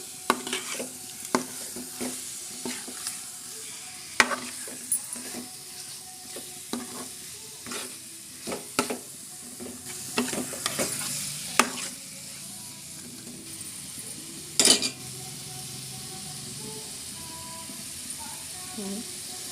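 A spoon scrapes and stirs through a Godavari-style fish curry in a pan, in irregular strokes over a continuous soft sizzle, close by.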